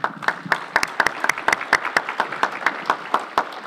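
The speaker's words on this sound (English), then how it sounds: "Let's have a round of applause for Mary Lynn" A modest morning chamber gathering applauds its on-site coordinator, a small audience whose individual claps stand out as sharp, fairly regular, moderately loud hits.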